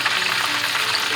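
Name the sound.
frying chicken lollipops in oil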